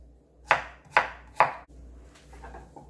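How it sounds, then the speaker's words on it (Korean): A knife slices cucumber diagonally on a cutting board in three crisp, evenly spaced chops, close and clear, followed by softer scraping taps. "그리고 어슷썰기처럼 이렇게 옆으로 썰어주세요."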